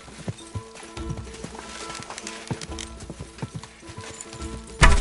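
Horse hooves clip-clop at a steady trot in Kingdom Come: Deliverance II on PS5, close and fairly loud, over a low rumbling backdrop, ending in a louder burst of noise.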